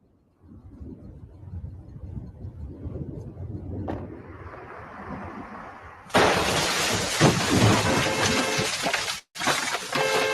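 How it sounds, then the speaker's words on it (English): A low windy rumble is suddenly broken by a violent crack as lightning strikes a large tree nearby, bursting into a loud, sustained roaring crash, cutting out briefly near the end. "a loud bang echoed as lightning struck a large tree nearby"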